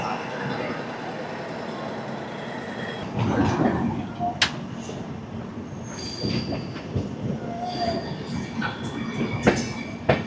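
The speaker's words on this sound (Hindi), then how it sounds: "अपने निर्धारित समय से ये ट्रेन चल पड़ी है" The Haridwar–Bandra Terminus Super Fast Express rolls along, with a rumbling rail noise under scattered wheel squeals and clicks. Voices can be heard partway through.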